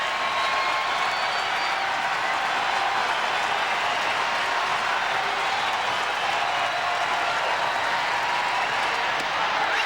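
A baseball stadium crowd of Orioles fans at Baltimore roars steadily as the Yankees batter faces a young pitcher, a dense continuous wash of cheering and clapping with faint talk mixed in.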